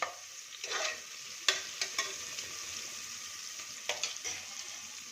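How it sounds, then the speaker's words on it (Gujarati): Onion fries in hot oil for a mixed-lentil khichdi, a steady close sizzle broken by a few scraping stirs of a spoon against the pan. "ડુંગળીને આપણે એકદમ સરસ અંદર શેકી લેશું।"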